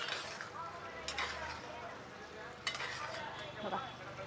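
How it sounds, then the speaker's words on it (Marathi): Potato vegetable curry stirred in a pan, with soft scraping strokes and a light, steady simmering sizzle underneath, quiet and close, with a couple of sharper clinks. "हलवून घेऊया तर बघा आपली भाजी झाली आहे"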